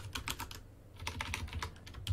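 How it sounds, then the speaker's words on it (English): Typing on a computer keyboard while entering an SSH command: a quick run of clicky keystrokes in bursts with a short pause in the middle, fairly quiet and close, with no talking. "I'm going to type this in"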